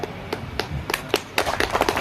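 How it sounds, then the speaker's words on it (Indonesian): Scattered clapping from an audience at a religious lecture for a Maulid Nabi celebration held at a company, a few separate claps at first, then a quicker uneven burst, fairly close and modest in volume. "Tepuk tangan pas saya ngomong seperti itu."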